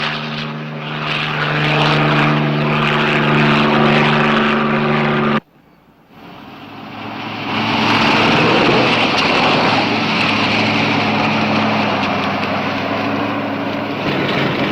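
A highway patrol helicopter flies overhead with a loud, steady engine drone that cuts off abruptly for a moment, then swells back and holds.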